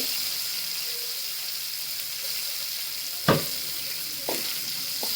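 Cumin, mustard seeds and a bay leaf sizzling in a little hot oil, a steady close hiss with two sharp clinks of a spoon against the pan.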